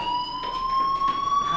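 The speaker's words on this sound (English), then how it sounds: "do you hear that fire alarm?" A fire alarm in a video game rings with a steady electronic tone that slowly rises in pitch and holds continuously, moderately loud, with no talking over it.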